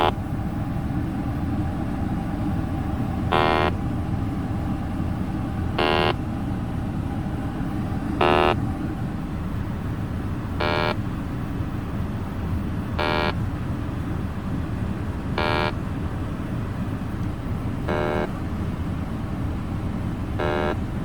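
An electronic refrigerant leak detector beeps at slow, even intervals, about eight in all, over a steady low engine-like hum, checking a 2014 Nissan Rogue's air conditioning.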